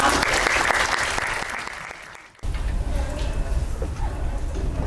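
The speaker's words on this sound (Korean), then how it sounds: "뜨거운 박수 부탁드립니다." Audience applause at a university media conference alumni lecture, a dense loud clapping that fades out around the midpoint, then a roomy low rumble of the hall with faint stirring follows.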